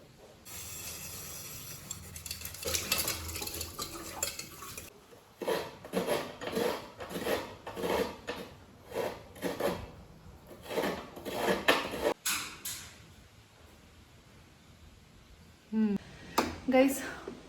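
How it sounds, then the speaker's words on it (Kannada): Dishes, pots and pans being washed in a home kitchen, with repeated metallic clanks and scraping in bursts, interrupted by pauses, and a voice talking at times. "ಗೈಸ್, ಪಾತ್ರೆ ತೊಳೆದಾಯ್ತು."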